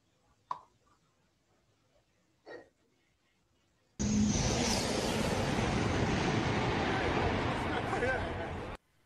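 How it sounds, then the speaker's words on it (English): A maglev train playing from a video in a classroom: a sudden loud, sustained broadband rush of the train passing lasts several seconds, preceded by a couple of brief voice sounds. "let's have a look at the maglev train to finish your class"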